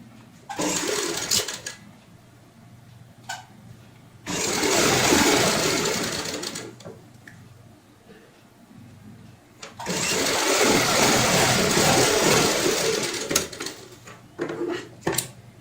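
Sewing machine running a long basting stitch on a cushion cover, two sustained whirring bursts of several seconds each, with short starts, clicks and handling sounds in the pauses between.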